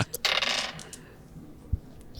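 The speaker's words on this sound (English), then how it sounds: "So roll 3 dice." Three dice clatter on a table in a short burst of bright rattles, then one faint click and a soft low knock follow. The sound is close and there is no talk.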